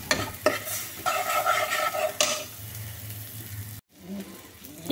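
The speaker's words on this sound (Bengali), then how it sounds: "খুব ভালো করে মিশিয়ে নেড়ে নিতে হবে।" Potato mixture stirred and fried in a pan, scraping strokes over steady sizzling, fading to quieter frying after a short gap.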